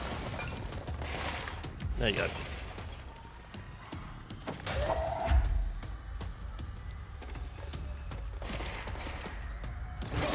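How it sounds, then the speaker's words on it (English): Scattered gunshots in the video game Control pop and crackle in the distance over a steady background hum, with someone speaking briefly. "I'm hearing what sounds like gunshots."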